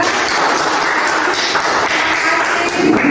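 Applause for a student group during a classroom teaching practice session, a steady dense wash of clapping filling the room for about three seconds with no pauses.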